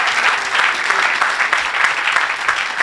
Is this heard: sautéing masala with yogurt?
no